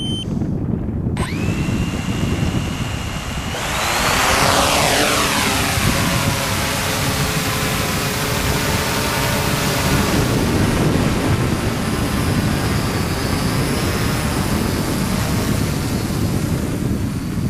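The motors of a 650mm H-frame quadcopter built from pine wood spin up after arming. A loud, close whine climbs steeply in pitch and then holds as a steady roar over rough wind-like noise.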